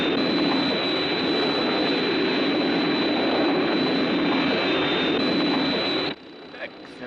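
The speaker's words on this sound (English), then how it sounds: "Hey, I hear an aircraft." A jet aircraft from a Thunderbirds Martian Invasion scene roars steadily overhead for about six seconds as a loud, broadband engine wash with a thin high whine, then cuts off abruptly, leaving faint quiet.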